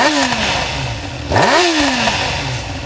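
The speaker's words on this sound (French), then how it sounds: "on va retrouver le 4 cylindres en ligne de 600 cm3 à refroidissement liquide, 16 soupapes, qui développe 100 chevaux" Liquid-cooled 600 cc inline four-cylinder Honda Hornet 600 motorcycle engine revs up and down in loud, sweeping pitch rises and falls, with a sharp blip in the middle.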